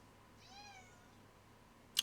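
A cat gives one short, faint, rising meow against a quiet room background, followed by a brief sharp click at the very end.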